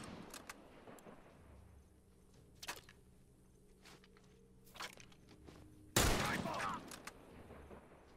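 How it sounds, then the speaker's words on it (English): Bursts of gunfire in a video game shooter match set in a high school, with a short volley near the start, scattered single shots, and a louder, dense burst near the end over faint background game noise; speech-like voices are mixed in. "Look out! Turret!"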